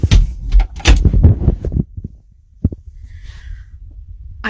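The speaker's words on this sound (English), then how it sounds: "One second, I gotta close my door." Door being closed indoors after muffled thumps and handling noise, followed by a sharp single knock-like click and then near quiet.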